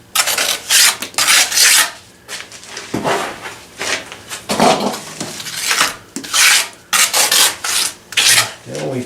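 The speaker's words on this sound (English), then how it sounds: "And then we plaster it." Trowel scraping and rubbing plaster over a concrete block pilaster column in repeated rasping strokes, close and fairly loud, with short pauses between passes.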